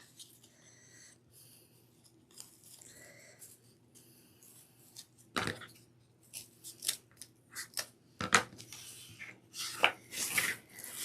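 Scissors snip through wired ribbon for a lemon-themed ruffle wreath, a run of short crisp cuts growing louder and quicker in the second half, close up and with no talking.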